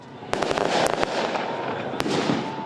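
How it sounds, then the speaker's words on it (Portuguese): A string of sharp fireworks bangs crackles through a noisy outdoor protest crowd celebrating arrests, with several quick pops early on and another loud burst a second later. "Manifestantes comemoraram a prisão dos dois com fogos de artifício."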